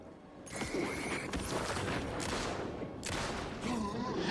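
Several sharp gunshot bursts crack close by in Alan Wake 2, loud and repeated over a steady game background, with a low humming voice faintly underneath.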